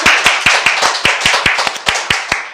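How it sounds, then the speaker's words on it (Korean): A church congregation claps hands in a steady, rhythmic beat, sharp close claps repeating evenly at a brisk pace with a faint background wash of more hands. "우리 하나님께 감사의 박수 한번 치겠습니다."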